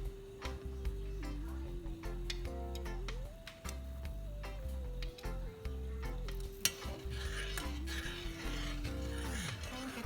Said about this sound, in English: I'm going to mix it while I add so that I know how thick it's turning out to be